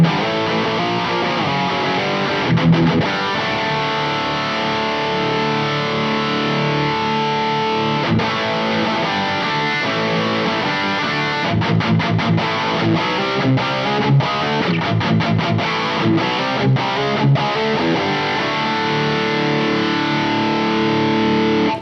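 Electric guitar run through a Mesa Boogie MkIIC+ amp simulation into a speaker cabinet, heavily distorted, with sustained chords and bursts of choppy, palm-muted riffing, loud and close, no voices.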